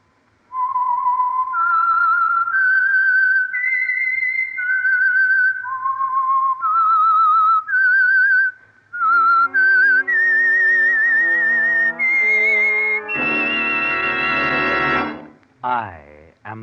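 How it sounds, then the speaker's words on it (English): The whistled theme of the 1950 radio program The Whistler rises and falls in clear, sustained notes, then gives way to a louder orchestral swell and a closing flourish. "the signal to listen for is this whistle that identifies the Signal Oil program"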